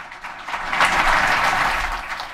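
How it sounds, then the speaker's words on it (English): An audience at GopherFest applauds as Rob Pike is introduced, the clapping swelling into a dense, sustained burst and then easing slightly. "Round of applause for Rob Pike, please."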